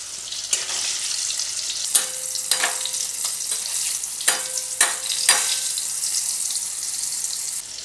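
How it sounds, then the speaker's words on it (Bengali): Potato pieces fry in oil in a pan over a medium-high gas flame for a Bengali egg curry, giving a steady close sizzle with several louder crackling bursts and no voices. "দিয়ে আলুটাকে একটু ভাজবো। গ্যাসটা মিডিয়াম টু হাই ফ্লেমে করে দিলাম"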